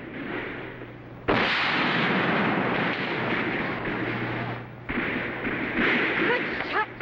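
Cannon fire in a Revolutionary War battle scene from a 1956 TV show, two deep booming blasts that each start abruptly and roll on into a long, loud, rumbling roar, with a low hum beneath.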